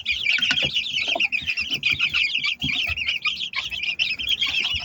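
A mother hen with nine chicks makes soft repeated clucks close by, under a continuous chorus of high, rapid peeping from the chicks.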